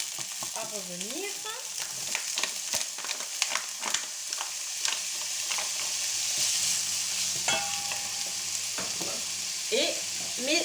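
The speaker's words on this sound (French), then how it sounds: "Je vais mettre d'abord mes lardons." Bacon lardons fry in a pan for a tartiflette, a steady close sizzle punctuated by repeated clattering scrapes of stirring, with a couple of brief voice fragments near the start and end.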